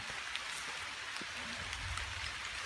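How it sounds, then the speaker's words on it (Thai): Light rain pattering on a surface with scattered distinct drops, fairly quiet and steady, with a faint low rumble underneath. "ฝนลงเม็ดแล้วนะครับ"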